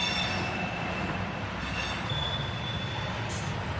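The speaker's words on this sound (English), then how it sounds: "here's a better view of the train coming out of the building up there" A freight train hauling intermodal cars rolls out of a building in Indianapolis, making a steady, loud rail rumble with wheel squeal and a continuous metallic ring throughout.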